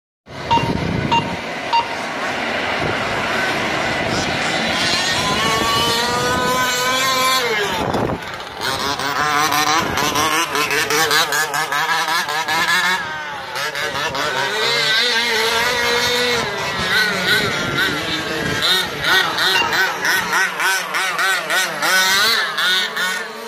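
Several 1/5 scale petrol 2WD RC cars racing on the Runowo track, their small two-stroke engines buzzing and whining loudly with rising and falling pitch as they pass close by.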